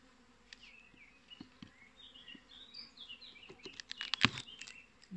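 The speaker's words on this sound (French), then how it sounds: "Bon, là il y a un peu plus d'abeilles de rentrée quand même." Honey bees buzz around an opened beehive super during a hive inspection, a soft, steady drone with several close passes, while birds chirp intermittently in the background.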